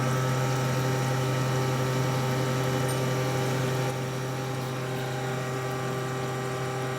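A vertical milling machine cuts a pocket into a mold base, with coolant and a slurry of chips; a steady, even machining drone with a constant hum runs throughout, loud and continuous with no talking.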